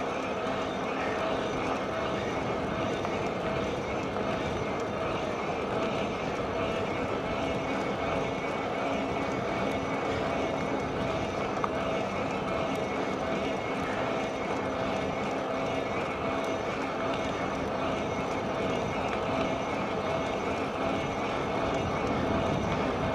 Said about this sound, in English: Holy wind.